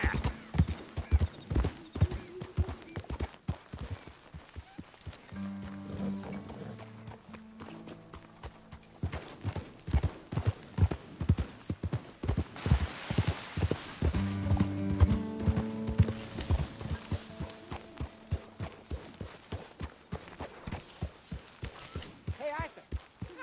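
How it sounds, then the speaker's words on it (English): A horse's hooves clip-clop in Red Dead Redemption 2 in a steady, close rhythmic beat that speeds up and slows across the stretch, with a whinny, snorts and a few spoken voices mixed in. "get that horse out of here."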